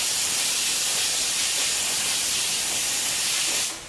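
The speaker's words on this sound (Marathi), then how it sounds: "हा मसाला चांगला भाजून घ्यायचा." Masala roasts in oil for a spicy mutton curry, making a loud, even hiss of frying that holds steady before dropping away at the very end.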